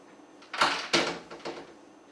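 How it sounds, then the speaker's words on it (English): A cat at a doorway wanting to get out knocks at the door, making three distinct muffled thumps and rattles close by in a quiet room. "it sounds like one of the cats want out of that doorway"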